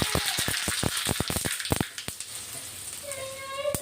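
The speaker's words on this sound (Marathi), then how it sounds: "तडका पॅन मध्ये मोहरी टाकलेली आपण, मिरच्या पण टाकून घेऊ आणि थोडी तीळही टाकतोय" Mustard seeds, chillies and sesame seeds crackle in a small tempering pan, a dense run of sharp close pops and spits that thins out into a softer steady sizzle.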